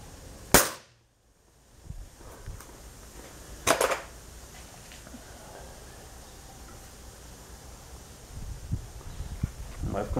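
Two sharp, loud air rifle shots a few seconds apart, each a crisp crack, with quiet outdoor ambience and faint handling noises between them.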